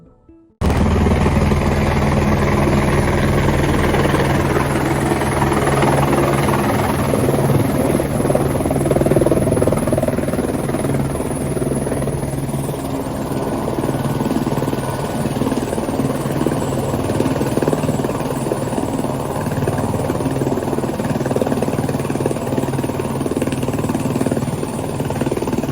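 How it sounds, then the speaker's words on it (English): A helicopter flying from Phata to Kedarnath roars loud and steady from the cabin for the whole stretch, with a continuous rotor and engine drone and a high whine above it, and no one speaking. "I managed to board the helicopter and fly to Kedarnath Temple."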